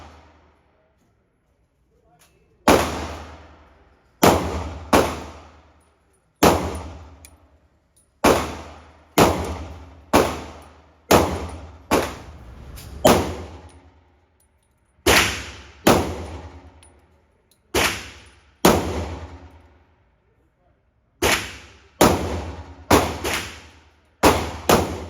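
A pistol fitted with a Cyelee red dot optic fires roughly twenty sharp, loud shots at an outdoor gun range, in uneven strings of single and quick double shots, each with a short ringing decay.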